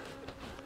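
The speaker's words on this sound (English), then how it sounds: "There's a few bees in there." Honey bees in an open hive during an inspection, a brief close, continuous buzzing hum without voices.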